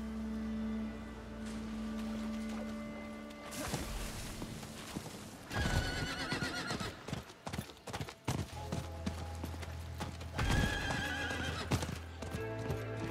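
Rhythmic hoofbeats of a horse galloping in Diablo IV, with loud whinnies and game sound effects layered over a steady background hum.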